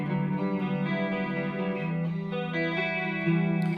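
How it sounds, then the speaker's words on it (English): A big, lush sine-wave tone from a guitar effects pedal sustains as feedback builds through the circuit. It is dense and continuous, with no voice over it. "let's get back to a big lush sine wave sound, and then we'll introduce feedback to it"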